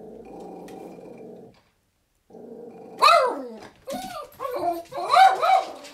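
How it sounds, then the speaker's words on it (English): A dog barks and growls in a home, near and loud, in several rough bursts after a few seconds of steady low humming background. "to bark out of the other window, you know, because this window wasn't good enough to bark about."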